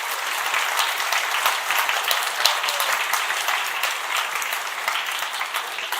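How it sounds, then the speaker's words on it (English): An audience at a programming contest final gives sustained, dense applause for two contestants, loud and steady throughout. "And once again, a big applause, please, for our two wonderful contestants."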